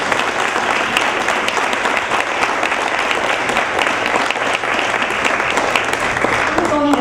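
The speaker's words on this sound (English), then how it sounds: "Another round of applause for our" Audience applause at an elementary school gathering, a dense, steady wash of many hands clapping continuously at a fairly loud level throughout.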